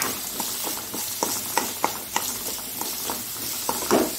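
Sliced onion frying in a pan with a little salt for a Karavali-style saaru, a steady sizzle broken by regular scraping stir strokes about every third of a second, close and fairly loud, with no talking.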